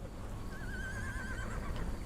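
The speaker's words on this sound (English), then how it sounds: "Yes, the horse was spooked as well." A spooked horse in a Sherlock video game lets out a single wavering neigh at mid-distance, fairly faint, over low rumbling background noise.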